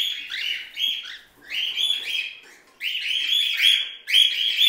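Cockatiels in an indoor bird room with a colony breeding setup, giving bursts of shrill, rising chirps and whistled calls that overlap. The calls come in waves, some close and loud, with short dips between groups and no voices.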